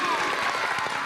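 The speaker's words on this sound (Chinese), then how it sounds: "掌声鼓励一下" Studio audience clapping on a children's game show as a young contestant is welcomed, a dense, steady patter with a voice audible over it.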